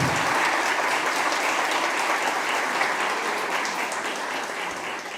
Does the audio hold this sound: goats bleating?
no